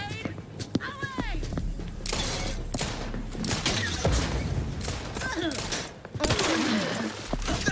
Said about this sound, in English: Grenade away!